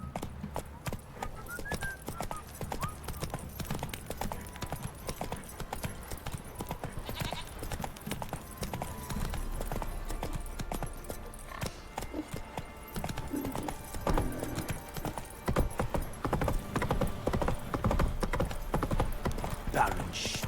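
Rhythmic hoofbeats of the horse Roach galloping in The Witcher 3, a steady clip-clop that runs throughout at moderate loudness with game ambience, a brief whinny, and a voice speaking over it.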